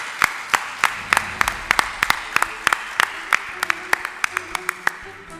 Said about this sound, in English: please would you join me in giving our judges a round of applause